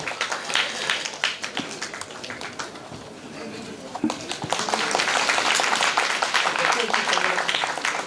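Crowd clapping at a public event in a hall, scattered claps under a speaking voice at first, then swelling into loud, dense applause for the final seconds.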